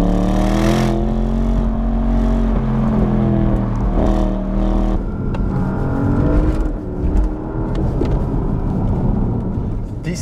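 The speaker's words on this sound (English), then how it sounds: "put it in sport and feel that sound of the V8 engine" A Porsche Panamera Turbo's V8 engine in sport mode revs and pulls hard for several seconds, loud and close, its deep rising harmonics dipping and climbing as the car accelerates through gears, with a steady rumble throughout.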